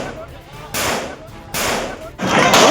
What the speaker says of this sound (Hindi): तड़ातड़ गोलियां चल रही हैं।